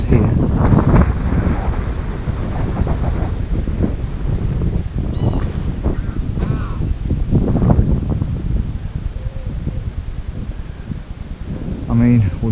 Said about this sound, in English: the wind's the main pain